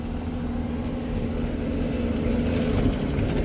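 An old Land Rover 109 Series engine runs steadily at close range, a low uneven chug with a faint rattle, idling after a cold start on full choke.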